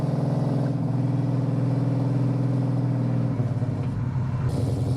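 A 1973 Dodge Challenger with a 383 V8 and automatic transmission runs steadily, a loud close rumbling engine drone that shifts pitch slightly partway through, with no talking.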